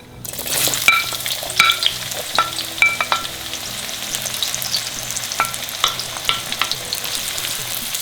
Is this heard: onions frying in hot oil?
yes